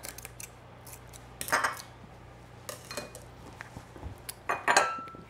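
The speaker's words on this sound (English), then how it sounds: "I just cut a little piece of cheesecloth." Scissors snip through a small piece of cheesecloth in a home kitchen while stuffed quahogs are being prepared, giving a few short, quiet crisp cuts spaced apart with soft handling noises between them.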